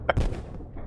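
A single sharp gunshot in the video game Dread Hunger, a short loud crack followed by a brief low boom and a fading tail.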